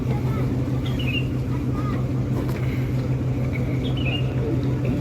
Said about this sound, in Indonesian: panggilan kapal kalau di Banjarmasin itu klotok, karena dia kapal bermotor yang biasa bunyinya